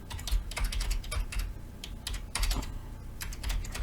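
Computer keyboard being typed on while building a form in Excel: close, fairly loud bursts of clicking keystrokes in quick irregular runs, with short pauses between words.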